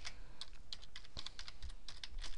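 Quick typing on a computer keyboard, a close run of light key clicks in an uneven rhythm with one heavier keystroke midway.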